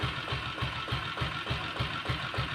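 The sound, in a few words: self-start diesel Bullet motorcycle engine idling beat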